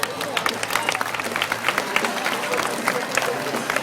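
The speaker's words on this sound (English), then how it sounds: "Have a round of applause for Akasha." Zoo crowd applauding after a tiger diving show featuring a tiger named Akasha, a lively patter of many hands under crowd noise and murmuring voices, fairly loud and continuous.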